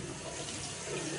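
Water runs steadily from a tap into a sink, a soft continuous splashing hiss heard alone, with no one talking.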